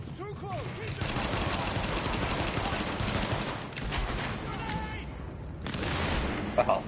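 Grenade blast and rapid gunfire in the video game The Division, heard as dense bursts of shooting with a heavy boom, dropping briefly before another volley and a few sharp final shots.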